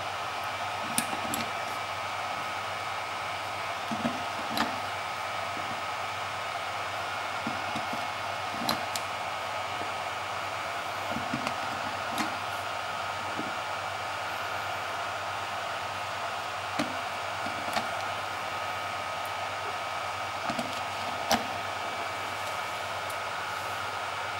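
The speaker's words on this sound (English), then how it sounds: "I see that the fan has also kicked into a higher gear than before" Cooling fan of a Powerex MH-C980 battery charger-analyzer running at a raised speed, a steady faint whir with a constant hum, with small clicks and bumps scattered over it.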